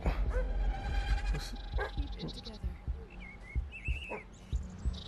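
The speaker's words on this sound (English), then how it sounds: "he's just barking" A dog barks and yips in short bursts with whimpering between, inside a VR game, mixed with a busy game soundscape and someone talking over it.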